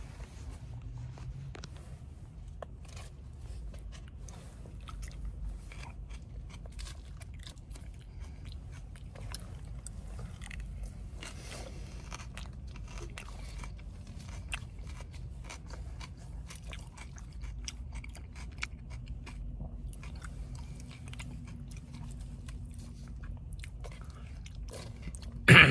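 Someone eats a spicy chicken salad bowl with sauces and pickled onions, with steady close crunching, biting and chewing over a low background hum for the whole stretch, and no talk.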